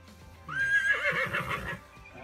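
A Breton horse, a draft breed from Brittany in northern France, gives one clear, loud whinny lasting a couple of seconds, its pitch rising and then wavering, heard alone without any talk.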